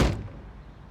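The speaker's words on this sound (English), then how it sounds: "So when I close the door," A car door swings shut with a single close, heavy thud, followed by a brief low rumbling decay and no talk.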